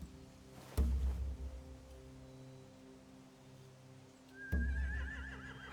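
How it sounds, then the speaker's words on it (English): Two loud horse whinnies in The Walking Dead: The Telltale Definitive Series, one early and one near the end, each with a rising-falling squeal, over a quiet ambient bed with no talk. "They have horses."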